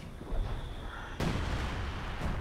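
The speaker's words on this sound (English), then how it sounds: "Firing sector artillery, commander." Sector artillery fires in the video game Company of Heroes 2 in Lienne Forest: a soft thump, then a sudden loud blast with a rumbling tail and another lighter hit near the end, with no talk.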